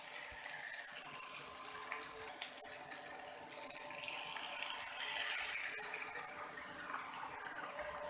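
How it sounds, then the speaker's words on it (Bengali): Water pours steadily into a cooking pan of aloo potol, potatoes and pointed gourd cooked down with poppy seed paste, making a continuous close splashing rush that lasts throughout with no voices. "আমি পানি দিয়ে দিয়েছি।"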